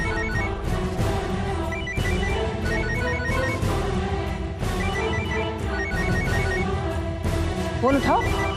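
A telephone ringtone trills repeatedly in a regular pattern, mixed in with busy background music and voices.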